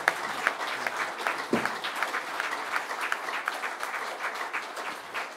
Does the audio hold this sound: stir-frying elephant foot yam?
no